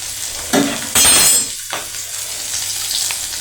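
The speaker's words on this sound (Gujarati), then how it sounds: "ત્યારબાદ હું લસણની કળીના ટુકડા નાખીશ" Garlic clove pieces dropped into hot oil for moong dal fry: a quiet sizzle, then a sudden loud spitting burst when they land, fading back to a low steady fry.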